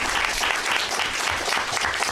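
Brief, dense applause from the audience at a town council meeting in Edmonston, many hands clapping steadily and fairly close for about two seconds.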